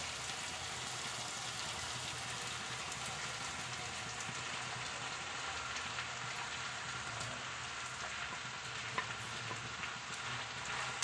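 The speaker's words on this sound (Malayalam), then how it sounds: "ചോറും ചേർത്ത് കൊടുത്തതിന് ശേഷം നല്ലതുപോലെ മിക്സ് ചെയ്യുക" Cooked rice is mixed into chicken fried rice in a pan, making a steady, even sizzle and soft stirring rustle that continues unbroken, close and low in level.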